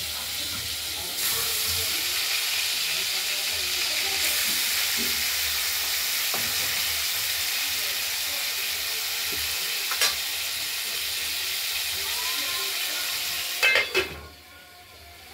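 Rohu fish pieces sizzle in hot oil in a pan, a steady, close crackling hiss that runs throughout, with a few scraping clinks of the spatula and a short clatter near the end.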